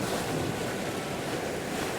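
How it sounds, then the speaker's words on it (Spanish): Strong wind and waves crash forcefully on rocks, a dense, continuous roar of surf and gusts with no voices. "el sonido de las olas que chocan con fuerza sobre las rocas"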